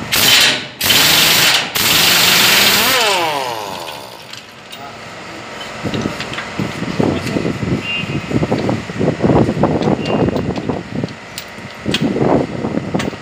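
Pneumatic impact gun loosening landing gear bolts on a Volvo 440 heavy truck trailer, loud sustained bursts of rattling hammering at the start, followed by clanking tool and metal handling sounds under talk.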